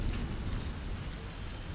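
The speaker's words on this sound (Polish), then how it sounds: "Pierwszy raz widzę deszcz w tej grze." Steady, even rain falling in the video game Satisfactory, a dense hiss with no break, heard alone at moderate loudness.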